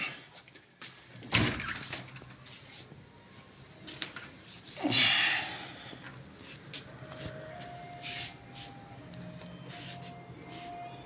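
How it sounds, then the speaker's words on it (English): A hotel room door in Sapa, Vietnam is opened with a clack and a sliding rush, followed by room noise and faint outdoor ambience. "just opened the door here"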